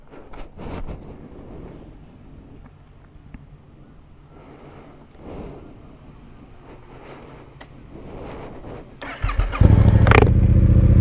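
A light motorcycle engine starts near the end after quiet outdoor handling noises, catching with a loud, close rumble that holds steady.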